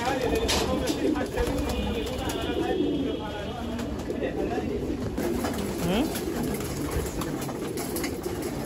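Racing pigeons coo steadily inside a loft, soft repeated throaty calls layered close together, with people talking in the background throughout.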